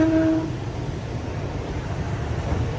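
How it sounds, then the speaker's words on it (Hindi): A Pakistan Railways train pulls out of Chichawatni station after a two-minute halt. A brief horn tone sounds at the start, then a loud, steady rolling rumble of the moving carriages follows close by. "तो चले 2 मिनट रुकने के बाद ट्रेन निकल रही चीचावतनी से"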